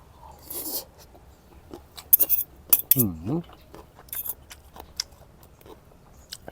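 Someone eats a plate of stir-fried kale with pork and hot steamed rice, with scattered close clinks of cutlery against a dish and soft chewing and biting sounds in between quiet pauses.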